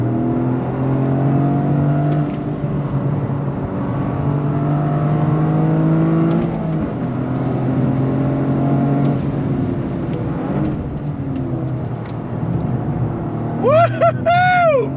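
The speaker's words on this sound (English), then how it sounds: "Third gear." A 2023 Toyota GR Corolla Circuit Edition pulls hard in third gear through a decreasing-radius corner, its engine note steady and loud with harmonics climbing gradually. It ends with a person whooping excitedly over the sound.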